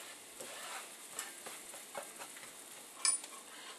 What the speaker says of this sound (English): From here, I'm just going to mix in my flour.